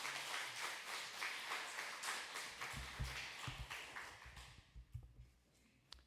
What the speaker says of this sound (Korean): 나오실 때 우리 환영의 박수로 인사했으면 좋겠습니다